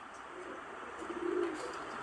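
Sick pigeons give soft, low cooing that swells briefly partway through against a quiet room hum. The calls are faint and distant, and no one speaks.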